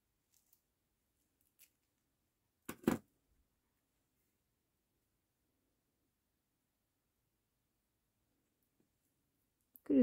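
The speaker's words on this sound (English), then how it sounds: "Going to try and cut this now." Scissors cutting paper, a few soft snips with one sharper, louder cut near the middle, close and isolated in a quiet room.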